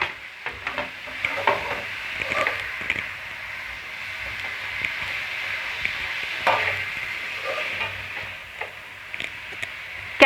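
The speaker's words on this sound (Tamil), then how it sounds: "இதையும் கிளறி விட்டுப்போம்" Mint and coriander leaves stirred into sizzling egg biryani masala in a pot: a steady close frying hiss with soft, irregular scrapes and taps from the spoon, no voices.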